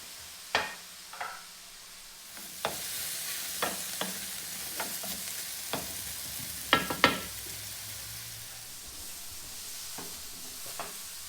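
Zucchini sizzles and caramelizes in a hot pan, a steady frying hiss broken by a handful of sharp spatula scrapes and taps as it is stirred, with no voices.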